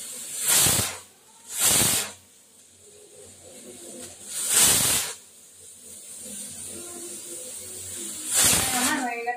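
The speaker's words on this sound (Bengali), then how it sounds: "এবার আমি প্রেসার কুক করবো মাংসটাকে" A pressure cooker full of mutton sends out four sharp, loud bursts of hissing steam at uneven intervals, with a quieter kitchen background between them.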